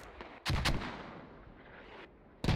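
Mortar rounds firing and landing in a Squad match on Fools Road, two heavy booming blasts with a hollow rumbling tail, fairly distant and muffled.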